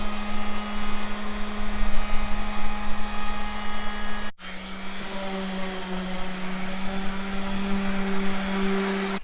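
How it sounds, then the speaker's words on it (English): A router table cuts a roundover along the front edge of a wooden desk top made from crib parts, giving a loud, steady high-pitched motor whine that cuts out briefly midway and then resumes under heavier load. "We're going to use the router table to add a roundover to the front top of the desk."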